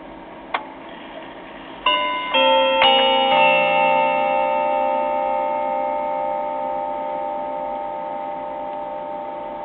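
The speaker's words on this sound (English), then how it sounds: "At 1/4 it will play the first 4 notes of the Westminster chimes." A completed clock strikes the opening notes of the Westminster chimes, several clear bell tones sounding one after another and then ringing on with a long, slowly fading sustain, loud and close in a quiet room.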